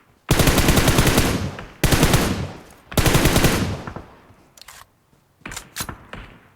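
Automatic gunfire in the mobile battle royale game PUBG Mobile: three long loud bursts of rapid shots, followed by scattered shorter, quieter bursts and single shots.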